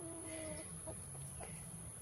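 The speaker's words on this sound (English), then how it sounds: "These chickens are eating grass and picking away." Chickens cluck softly in short, scattered calls while pecking at grass, faint and close, over a quiet background with a steady high whine.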